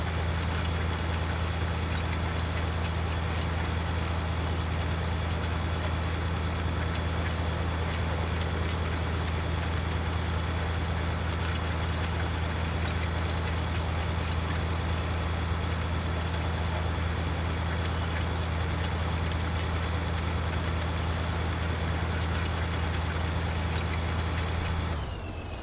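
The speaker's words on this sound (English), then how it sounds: "Such a classic American tractor right there." A classic American tractor engine in Farming Simulator 15 drones at a steady idle, a loud, constant low rumble with a hum layered over it that holds unchanged for the whole stretch and then cuts off at the end.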